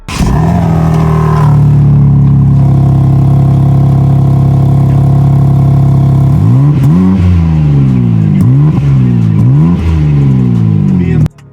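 BMW M3 Competition Touring with a 3-liter twin-turbo inline-six making 530 horsepower: a loud, steady engine drone holds for several seconds, then gives way to a series of sharp rising revs and quick drops, close and continuous throughout.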